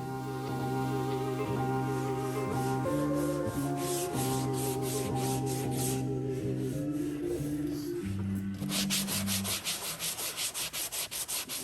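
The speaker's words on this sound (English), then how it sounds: "sand it, make everything smooth" Hand sanding on a repaired plastic car bumper, steady back-and-forth rubbing strokes close up, with a quieter tonal layer underneath and a faster burst of short rhythmic scrubbing near the end.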